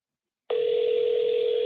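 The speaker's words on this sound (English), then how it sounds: "Let me know if you guys can hear the ringing too" A telephone tone sounds on an outgoing call during a live show, a steady, loud single pitch starting abruptly after a half-second of silence and holding without break.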